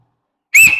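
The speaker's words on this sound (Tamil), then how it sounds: "நான் வராதுன்னு நினைச்சேன், விசில் வந்துருச்சு." A single sharp, loud finger whistle made with one hand bursts out after half a second of silence and holds steady to the end, with no talking.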